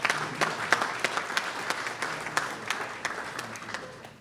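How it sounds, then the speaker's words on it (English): Applause at an inaugural ball, a fairly small audience clapping with distinct individual claps standing out over a steady patter, lasting several seconds. "So I want you to give yourselves a round of applause for that."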